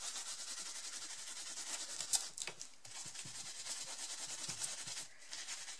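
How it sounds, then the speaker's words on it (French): Soft, close rubbing of a paper towel worked back and forth in all directions over an embossed card, a continuous light scratchy hiss with small uneven bursts. "Je frotte un peu dans tous les sens parce que mon essuie-tout, bah, ça crée un peu des motifs en même temps"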